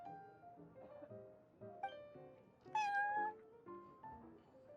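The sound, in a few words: cat meowing in the video game Genshin Impact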